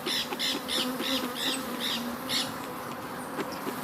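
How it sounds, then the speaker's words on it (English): Honey bees buzzing close by at an open hive being smoked, a droning hum with a few repeated brief pulses early on and a softer steady buzz after. "Just smoking the bees so they will go down."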